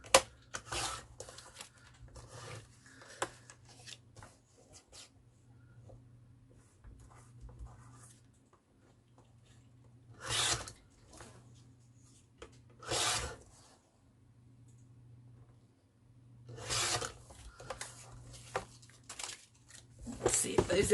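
Paper being cut to size for a small minibook, with several distinct bursts of cutting or slicing strokes spaced apart over a quiet background with a low steady hum, close and clear.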